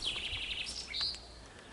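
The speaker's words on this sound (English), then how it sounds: "There's blackbirds in the neighbour's garden." Blackbirds chirping and singing in bright, high warbling phrases in a garden, fairly close, with soft background noise and no voices.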